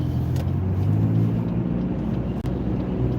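A car moving along an expressway in heavy traffic, with a steady low engine and road rumble throughout and a brief dip near the end, no voices.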